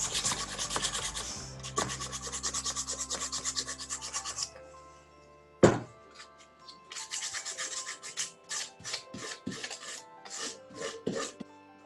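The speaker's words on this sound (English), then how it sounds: "start sanding" Fresh sandpaper rubs steadily over a water transfer art piece in rapid, close strokes, with a brief pause and a sharp knock midway before the gritty scraping resumes in shorter bursts.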